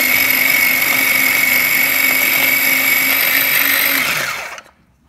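A small food processor chops fish with a steady high-pitched whirring motor hum that holds for about four seconds before spinning down and stopping.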